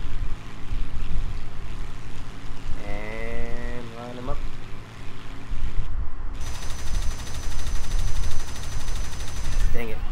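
Fighter plane machine-gun fire in the video game War Thunder, rapid bursts of shooting over a steady engine drone, with someone talking throughout.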